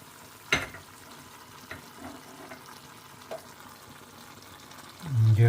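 Potatoes frying in a pan with added garlic, ginger and chillies, giving a low, steady sizzle with a few stirring knocks, then a louder burst of frying near the end.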